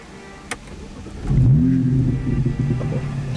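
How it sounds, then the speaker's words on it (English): A BMW 135i's inline-six engine revs up and accelerates hard, rising into a loud, sustained growl after a brief quiet idle, heard up close with no talking. "the engine, that inline six, it sounds so good."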